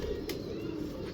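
Pigeons in a breeder's loft of female birds give a low, soft cooing close by, a continuous murmur over faint background noise with no talking.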